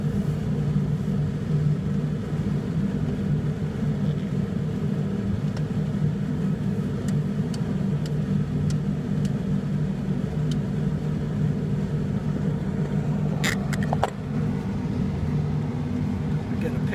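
A Ford F-250 truck drives and makes a U-turn through a church parking lot, its steady low engine rumble dominating throughout, with a brief clatter near the end.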